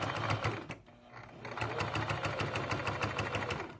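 A home sewing machine runs steadily while stitching through thick cloth envelope fabric, a continuous close whirring motor with a rhythmic needle chatter and a brief slowdown near the start.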